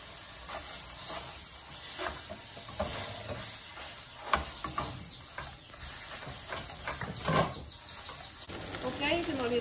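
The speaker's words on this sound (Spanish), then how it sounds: "el primer proceso es dorar el choricito" Chorizo browns in a frying pan, giving a steady soft sizzle and hiss broken by scraping stirs and a few louder clacks, with quiet talk over it near the end.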